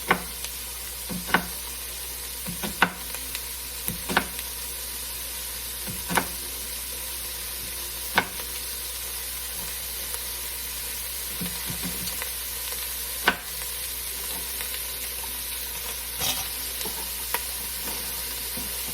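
Chopped onion fries in a pan for red beans and rice, a soft continuous sizzle broken by occasional sharp knocks and scrapes of stirring, with no voices.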